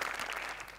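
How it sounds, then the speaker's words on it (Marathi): Studio audience applause on the Marathi comedy show Maharashtrachi HasyaJatra, a short burst of dense clapping that starts loud and tapers slightly, with no voices over it. "सचिन सरांसाठी एकदा जोरदार टाळ्या"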